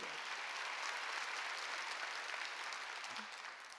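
A church congregation applauds during a Sunday worship service, a dense, steady wash of clapping that holds evenly and tapers slightly at the end, heard from some distance.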